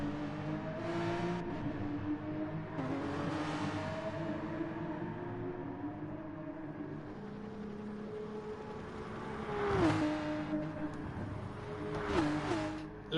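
Race car engine in Gran Turismo Sport at the Sardegna circuit, a continuous nearby drone that climbs and falls in pitch through gear changes, with sharp shifts around corners.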